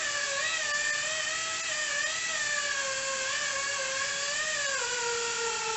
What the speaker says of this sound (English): Here I'm buffing with an air-powered Ingersoll Rand 2-inch buffer.